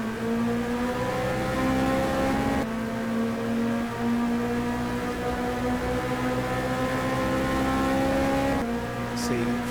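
A Formula Renault 2.0 race car engine held at full throttle on the Estoril circuit, a loud sustained whine with pitch slowly climbing through gears, one shift audible partway through, with race commentary talking over it.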